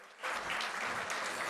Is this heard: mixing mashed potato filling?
no